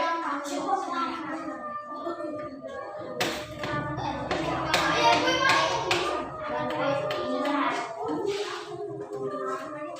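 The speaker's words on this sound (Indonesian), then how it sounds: "tepuk tangan untuk Mas Jaya." A classroom group claps during a school lesson, a burst of many hands applauding at close range for several seconds, with children's and a teacher's voices talking before and through it.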